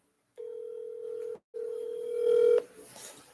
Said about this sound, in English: Let's see if I can reach Bernie on the phone.